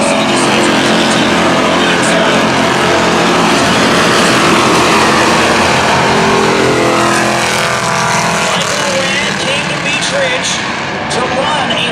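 Race cars roar around the Beech Ridge oval in a Sport Series heat, a dense, continuous engine drone of several cars in a pack, loud and steady throughout with a commentator talking over it.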